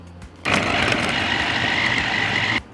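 An electric food chopper minces onion in a single loud, steady motor whir lasting about two seconds, starting and cutting off abruptly.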